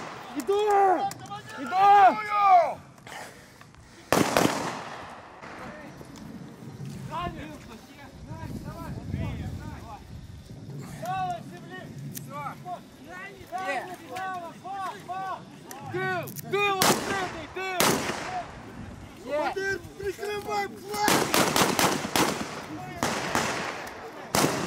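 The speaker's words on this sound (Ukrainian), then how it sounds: "з вибухами воно дійсно схоже на реальні умови бою" Explosions and gunfire crack through a Ukrainian military psychological combat-training drill, with repeated sharp blasts and bursts scattered across the scene while voices shout and talk throughout.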